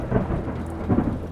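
A heavy rainstorm roars with steady, loud rain and deep rolling thunder rumbling underneath, continuous and close.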